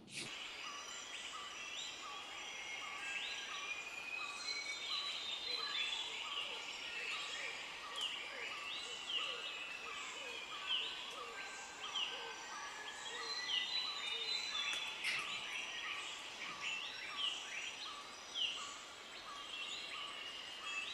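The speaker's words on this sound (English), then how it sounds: "I'm going to play you a soundscape from a forest in Indonesia" Many birds chirp and sing at once amid a steady hum of insects, a dense, continuous Indonesian forest chorus at moderate distance.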